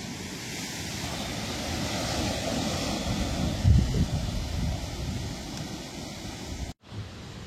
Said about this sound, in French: Et regardez les vagues de ouf.